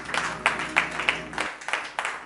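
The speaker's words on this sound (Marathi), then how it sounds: "जरा जोरदार टाळ्या प्रभूच्या करू असं" A congregation at a church service claps together in a quick, rhythmic beat, with sharp, evenly spaced hand claps over a room murmur that thins out midway, fairly close and moderately loud.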